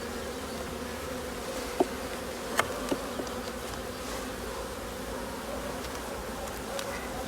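Steady dense hum of a honey bee swarm being recovered into a hive in Provence, continuous and close throughout, with a few faint knocks and clicks of handling.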